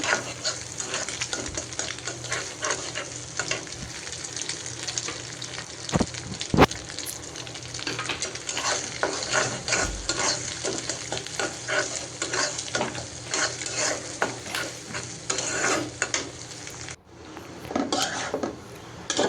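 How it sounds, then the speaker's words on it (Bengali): Egg frying in a wok with chopped onion and dried chili, a steady close sizzle with repeated stirring scrapes and light clinks of a utensil against the pan, no talking. "অন্য একটা কড়াইতে পেঁয়াজ কুচি আর শুকনো মরিচ দিয়ে দিচ্ছি তো এখন ডিমটাও দিয়ে দিব তো এটার মধ্যে ভেজে"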